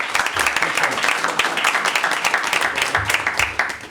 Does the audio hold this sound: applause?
yes